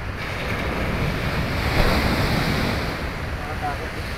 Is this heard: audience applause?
no